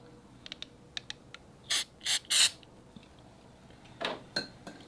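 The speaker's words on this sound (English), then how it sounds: "I'm going to spray the throttle body just lightly." Throttle body cleaner sprayed onto the throttle body of a Harley-Davidson Iron 1200, three short close hissing bursts from an aerosol can amid faint mechanical clicks, then a further softer spray near the end.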